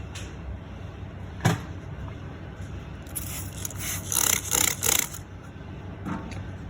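Rubbing and scraping at heavily built-up, pitted brake dust on an aluminum wheel: a single sharp scuff, then a cluster of harsh, gritty strokes close by, with quiet gaps between them.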